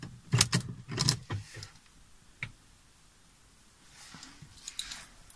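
A car key rattling and clicking into the ignition of a Porsche Cayenne 955 V8S after a battery change: two close bursts of jangling metal, a single later click, then quiet faint ticking.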